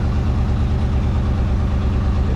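An Edsel car engine with an oil leak idles at low RPM, a steady close, loud rumble with even low pulsing throughout.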